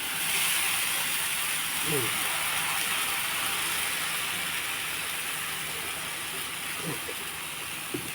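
Ragi flour dosa batter sizzling on a hot pan, making a steady, close hiss throughout that fades slightly toward the end, with faint clatter in the background.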